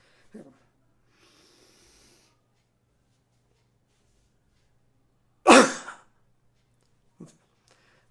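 One sharp, forceful deliberate cough releasing a breath held for five seconds, after a long quiet stretch, preceded by a faint breath and followed by a brief throaty sound.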